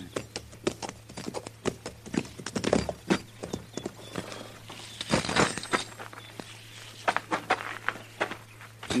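Horses' hooves clip-clop at a walk in a 1950s Western radio drama set near a corral, with irregular close hoofbeats, a soft whinny, and a low constant hum beneath.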